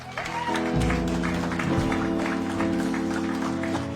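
A congregation applauds loudly and steadily through a Sunday church service, with sustained instrumental music tones running underneath the clapping.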